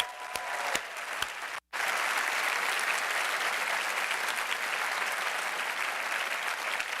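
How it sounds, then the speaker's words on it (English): Audience applause fills a room at a university State of the University address, steady and dense after a brief silent gap, continuing at even loudness throughout without talk. "one more round of applause"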